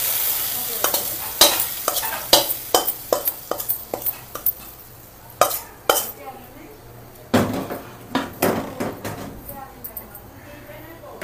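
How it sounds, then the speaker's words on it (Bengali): Tempering of onion, garlic, dried chili and shahi jeera poured into a kitchen pan, bursting into loud sizzling with sharp clatters of stirring and utensils, fading to a steady fry, with speech heard over it. "বাগারের জন্য পেঁয়াজ, রসুন, শুকনা মরিচ আর শাহি জিরা নিয়েছি, যেটা আমরা এখন এখানে ঢেলে দেব"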